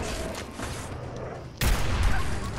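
Gunfire in the video game Fallout 4: a muffled burst of shots with a sharp, louder crack about midway that leaves a denser rumble after it, all fairly quiet.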